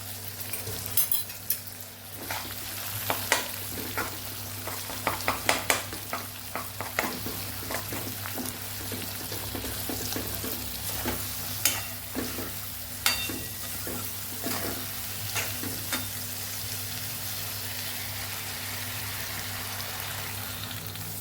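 A spoon scrapes and clinks irregularly against a pan while gram flour batter stirs over low heat, with a soft continuous sizzle; no voices.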